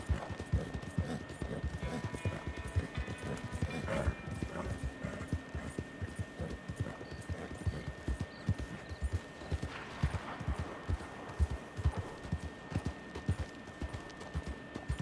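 Horse hooves galloping at a steady rapid clip-clop in Red Dead Redemption 2, a continuous drumming rhythm throughout with a faint whinny partway, while someone talks intermittently over it.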